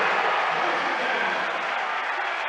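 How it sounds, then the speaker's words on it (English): A high school boys basketball gymnasium crowd roars and applauds after a dunk, a dense, loud, sustained wash of cheering that stays steady throughout. "That gets the crowd going."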